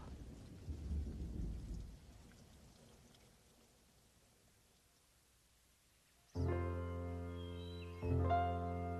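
A rainstorm with a low rumble of thunder that fades into quiet steady rain, followed by a sudden loud sustained tonal drone that cuts in near the end.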